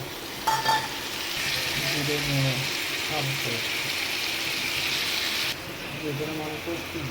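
Tomato and green chili fry in a pan with a continuous close sizzle and some stirring, while a voice murmurs faintly beneath the crackle.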